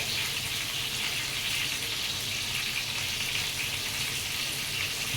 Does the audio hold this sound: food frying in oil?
yes